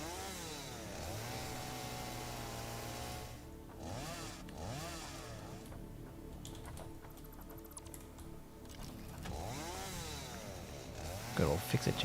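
A chainsaw in the factory-building game Satisfactory revs up and down in repeated surges over a steady mechanical hum, with other game noises around it, loud and close throughout.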